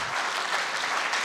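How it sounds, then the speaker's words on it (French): A crowd applauds at the closing of a festival, a dense, even patter of many hands clapping together, brief and fairly close with no voices over it. "On peut les applaudir"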